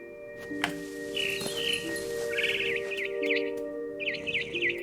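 Bird chirping in the game What Remains of Edith Finch, a series of short, bright tweets repeating in quick bursts over a steady droning game ambience, fairly close and clear.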